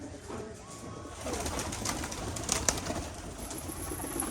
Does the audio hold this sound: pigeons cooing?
yes